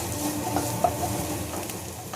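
Beans, grated carrot and onion stir-fry in a pan with a soft, continuous sizzle and light scraping stirs, heard close and alone.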